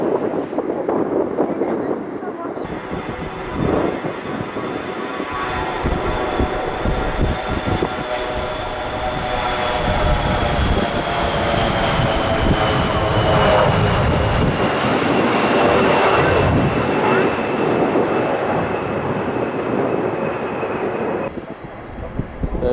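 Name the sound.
jumbo jet taxiing at London Stansted Airport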